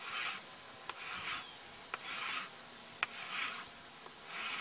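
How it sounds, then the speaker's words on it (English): A rasp files a horse's hoof with soft, rhythmic rubbing strokes, roughly one per second, quiet and close, with faint scraping ticks between passes. "We're just going to rasp down her heel just a little bit so you can see a clean triangle."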